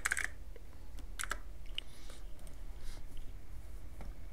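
Keys clatter on a computer keyboard in a few quick bursts of clicks, faint and close in a quiet room, with scattered single taps between.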